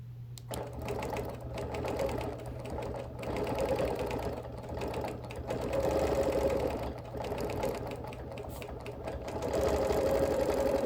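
Sewing machine stitching a double-batted Baltimore album quilt, a steady mechanical whir that runs continuously with a low hum, swelling and easing slightly as it goes, up close and alone.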